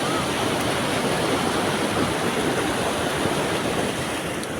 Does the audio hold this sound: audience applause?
no